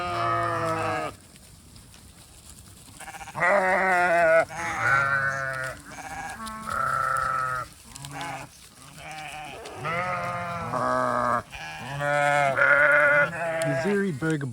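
Sheep bleat repeatedly in a farm paddock, a flock calling in loud overlapping bursts with brief pauses between, some calls close and strong, others a little softer.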